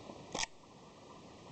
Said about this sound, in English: If I just wind it on again